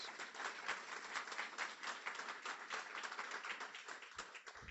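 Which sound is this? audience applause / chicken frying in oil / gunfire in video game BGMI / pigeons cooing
audience applause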